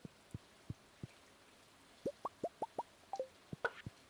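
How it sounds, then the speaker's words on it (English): Rain in the video game Stardew Valley, heard as soft droplet plops, first sparse and evenly spaced, then a quicker cluster of pitched drips, faint and isolated with no talk. "Why is it always raining all the time?"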